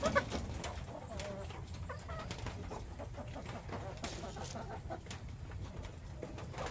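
Chickens cluck in short, repeated bursts over a steady, noisy background, with a few sharper calls standing out near the start.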